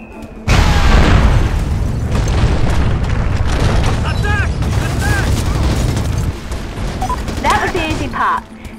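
Bombs exploding in the video game Mercenaries 2, a sudden heavy boom followed by a sustained barrage of blasts and rumbling, with crackling debris and fainter pops as it tails off.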